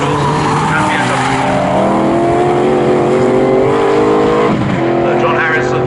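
Ferrari, Marcos and BMW GT race cars passing at speed during a GT Cup Championship race, engines loud and sweeping past in a rising and falling roar, with commentary running over it.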